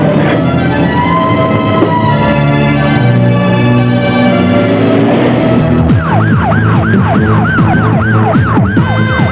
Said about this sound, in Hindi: यार ये तो पुलिस के सायरन की आवाज लगती है।